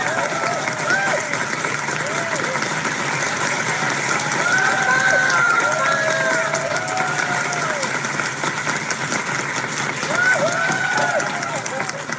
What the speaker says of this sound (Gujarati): આપણે એમના માટે પણ તાળીઓ પાડીએ